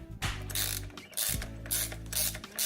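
Ratchet socket wrench loosening the axle nut on an EVOLV Sprint bike wheel: two quick runs of rapid, close mechanical clicking with a brief pause between, no talking.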